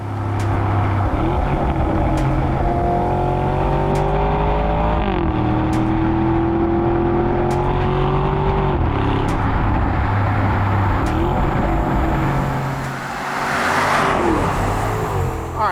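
A 2021 Audi SQ7 SUV's 500-horsepower V8 with switchable exhaust runs loud and steady, with pitch rising and falling through repeated revs and a brief dip near the end.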